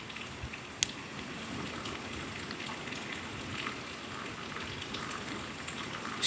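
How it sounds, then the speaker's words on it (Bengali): Chopped garlic frying in hot mustard oil in a pan, a steady close crackling sizzle with fine popping spatters and a few sharper pops, no talking. "রসুনটাকে আমি হালকা ভেজে নেব।"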